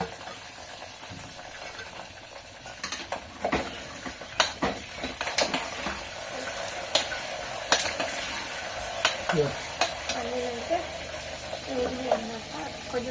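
Pan sizzling steadily as peanuts roast, with a spoon scraping and stirring in irregular bursts and a few soft clanks; faint voices in the background.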